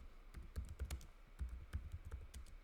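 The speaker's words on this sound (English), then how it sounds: "I'm very bad at typing" Keystrokes on a computer keyboard, typed while writing code, come in uneven quick bursts with short pauses. The clicks are close and fairly soft, with no talking over them.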